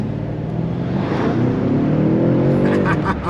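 A BMW M5 Competition in M1 mode accelerates hard under a bridge, its exhaust climbing loud and close in a steady rising roar, with voices talking over it.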